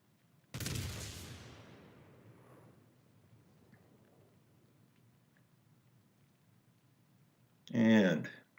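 Naval gunfire from the battleship New Mexico in World of Warships: one heavy close salvo blast that rolls into a long fading rumble, later joined by a person talking.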